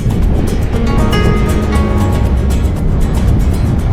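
A ferry crossing the Rhine river toward Rudesheim, heard as a steady loud rumble of engine and water with wind noise, continuous and without talk.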